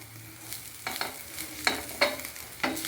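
Food being sautéed in a pan, with a steady soft sizzle beneath several distinct spatula scrapes and stirring strokes at an uneven rhythm, close and clear, with no talking.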